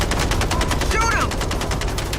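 Gunfire in the video game Mindseye: dense, continuous rapid shots form a steady automatic burst running the whole time, loud and close.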